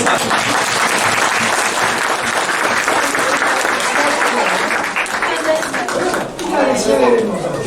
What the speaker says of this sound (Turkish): Kocaman bir alkışla öğretmenimize.